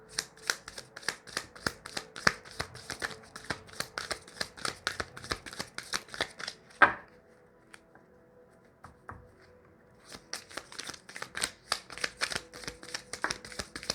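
Tarot cards riffle-shuffled by hand in quick, crisp bursts of flicking, close and clear with no voice, broken by a single sharp tap near the middle and a brief pause before the shuffling resumes.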